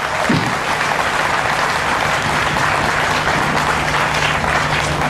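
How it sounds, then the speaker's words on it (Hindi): Audience at a Gou Katha religious discourse applauding to welcome a speaker: sustained, even clapping from many hands filling about five seconds, with little else over it. "दोस्तों, तो तालियों से इनका स्वागत कर दीजिए एक बार।"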